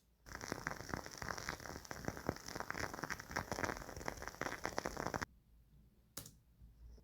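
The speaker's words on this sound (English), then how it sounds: "A wooden wick. You know, this thing in the candles." A soft, dense crackling of a burning wooden candle wick, steady for about five seconds, then silence with one faint click.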